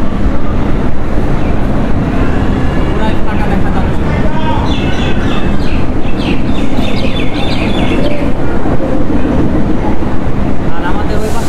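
Chitra Express train pulling out of Ishwardi station in Bangladesh, a loud continuous rumble and rattle of the carriages heard from on board, with birdlike squeals and chirps riding on top and no clear talk.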